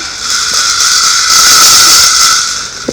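Soy sauce sizzling into nasi goreng frying in a pan, a loud, steady steamy hiss that swells in the middle and tails off, with a small clatter at the end and no talk.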